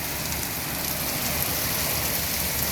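Heavy rain pouring down in Riyadh, a steady dense hiss of drops hitting surfaces, constant and fairly loud with no pauses.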